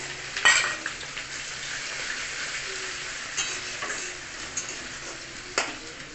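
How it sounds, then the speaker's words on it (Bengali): Chopped onion sizzles steadily in hot oil with garlic and ginger, pasta base being cooked, a continuous close frying hiss broken by a few sharp clicks of stirring. "পেঁয়াজটা খুব মোটামুটি ভাজা হচ্ছে"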